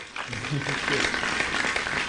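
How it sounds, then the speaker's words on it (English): A comedy club audience gives a loud, continuous round of applause for comedian Morgan Jay, a thick roar of clapping with voices mixed in. "Please, a giant round of applause for Morgan J."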